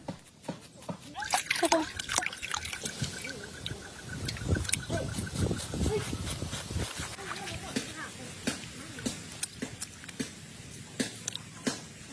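Hides are washed clean by hand in a small stream, with irregular nearby splashes and sloshing water throughout as voices, including a child's, talk over it.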